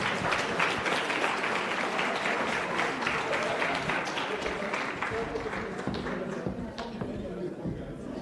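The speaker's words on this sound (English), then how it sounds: "Please, round of applause in welcoming Ms." A conference audience at a competition law event breaks into a dense, sustained round of applause that fills the room for the whole stretch and fades slightly toward the end.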